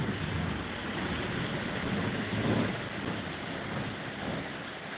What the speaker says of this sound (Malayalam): അപ്പോൾ ഇതാ മഴ വന്നു കഴിഞ്ഞു